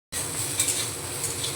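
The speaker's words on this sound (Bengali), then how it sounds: "উচ্ছেটা ভাজা হয়ে গেছে হালকা করে" Bitter gourd slices fry in a small amount of oil in a wok, giving a steady, close sizzle with faint stirring clinks, alone without talk.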